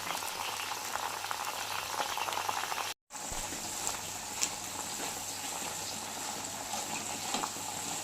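Homemade hair oil with henna and lemon leaves simmers at a full boil, big bubbles gurgling and popping in a continuous close bubbling that cuts out for a moment early on.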